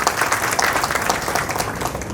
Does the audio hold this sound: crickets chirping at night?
no